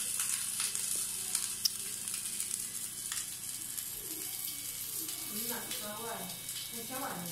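Oil or ingredients frying in a hot wok while making Penang-style fruit pickle, a steady close sizzle running throughout with a voice talking over it.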